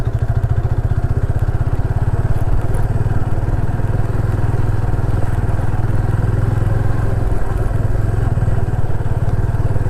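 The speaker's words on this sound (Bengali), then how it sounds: "মাঝে মাঝে বালিতে প্রচুর বসে যাচ্ছে বাইকের চাকা" A motorcycle in first gear pushes through soft beach sand at a sea beach, its engine thrumming loud and close in a steady rapid pulse with occasional clattering.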